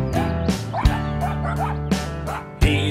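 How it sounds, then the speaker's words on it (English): A dog gives a few short barks, roughly three sharp yips spread over a few seconds, set against steady tonal background music. "He's a funny dog with a brown nose and a long tail."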